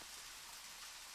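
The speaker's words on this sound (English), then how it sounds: "it's a rainy morning." Steady, hissing rainfall from the video game Deadly Premonition patters evenly and faintly in the background, with no voices over it.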